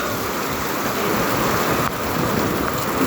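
Dense, heavy rain pours down steadily, a loud continuous hiss with no pauses.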